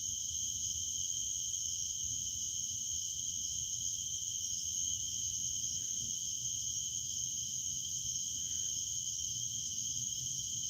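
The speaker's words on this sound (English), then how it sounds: "Crickets, Jabo." Crickets chirp in a continuous, high, even trill that runs without a break, with a faint low rumble beneath and no voices.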